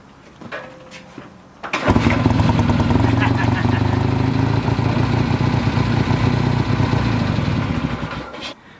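An old Triumph Bonneville motorcycle engine catches after a brief kickstart and settles into a loud, steady, chugging idle for several seconds before cutting off.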